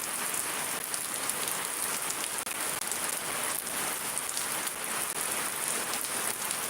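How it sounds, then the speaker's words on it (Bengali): Steady heavy rain in Shariatpur, Bangladesh drums continuously on nearby surfaces, a thick uniform wash of drops with a couple of faint clicks and no speech. "শরীয়তপুর অনেক বৃষ্টি হচ্ছে"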